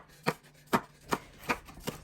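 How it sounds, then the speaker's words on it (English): A knife slicing two scallions on a cutting board, five crisp, evenly spaced chops about every 0.4 seconds, close and clear with no talk. "I am just slicing up my 2 scallions."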